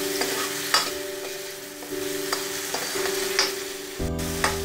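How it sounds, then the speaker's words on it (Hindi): Mushrooms frying in hot oil in a kadhai with a steady close sizzle, broken by a few stirring clatters and scrapes and a sharper burst of sizzle near the end. "अब हम इसमें मशरूम डाल देंगे, इससे इसका टेस्ट और भी दुगना हो जाएगा।"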